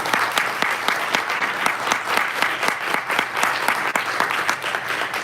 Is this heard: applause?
yes